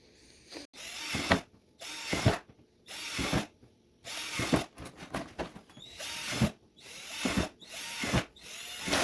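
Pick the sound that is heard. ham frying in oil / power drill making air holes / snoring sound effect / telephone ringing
power drill making air holes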